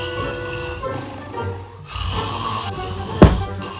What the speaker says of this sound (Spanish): Dios mío, pero este cómo ronca.